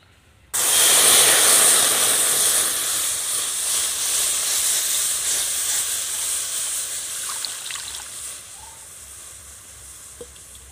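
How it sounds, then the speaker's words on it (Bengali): Milk hitting a hot wok on a lit stove bursts into a sharp, loud hiss that begins suddenly, then settles into a steady steamy sizzle and slowly fades over several seconds, with no talking. "আমি উনুনটা জ্বালিয়ে নিয়েছি, কড়াটা গরম হয়ে গিয়েছে। এবার আমি দুধটা দিয়ে দিচ্ছি।"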